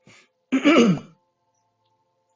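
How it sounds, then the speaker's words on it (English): A man clears his throat once, a short rasping burst close to the microphone, preceded by a faint breathy sound and followed by near silence. "Please excuse me for clearing my throat."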